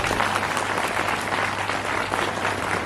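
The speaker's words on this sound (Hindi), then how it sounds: "तालियां।" Students in an audience at a school National Science Day event applaud, a loud, even roar of many hands clapping that holds steady from start to finish, with no voices over it.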